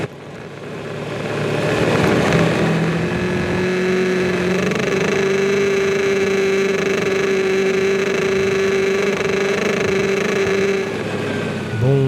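A motorcycle engine drones steadily as it rides through the sand dunes of Merzouga, Morocco, close and loud, its pitch rising at the start and then holding a constant tone.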